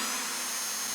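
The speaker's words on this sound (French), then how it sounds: "on commence par la perceuse" Power drill sound effect: a loud, steady whirring motor drone held at an even level through the whole second, with no talk over it.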